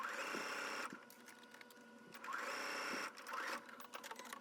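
A sewing machine stitches the pockets of a beginner summer dress in place at a quarter-inch seam, running in several close, steady bursts separated by short pauses.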